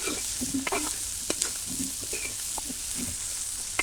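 Chopped onion, a generous amount, fries in a pan with a soft sizzle under frequent stirring scrapes and taps, fairly quiet and close.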